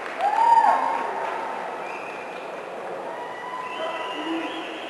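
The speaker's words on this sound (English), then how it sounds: "gets a huge round of applause from the fans" Fans applaud at a boys' swimming and diving championship final, a soft, diffuse wash of distant clapping and crowd noise in a large echoing pool hall, swelling briefly at the start and then holding at a low, steady level.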